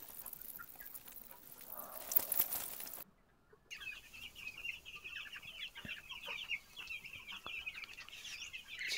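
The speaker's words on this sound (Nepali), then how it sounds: "मेरो 9 दिनको चल्लाहरू हो" A crowd of nine-day-old broiler chicks peeps continuously in high, rapid chirps, with rustling and a few brief knocks before the chorus.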